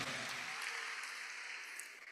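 An audience at a university inaugural lecture applauds steadily, producing a continuous, moderately loud wash of clapping that fades slightly toward the end.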